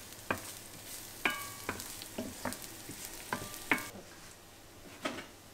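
Chopped garlic sizzles in a hot frying pan with a steady crackling hiss, broken by a handful of sharp clicks and scrapes of a utensil stirring against the pan, close and alone.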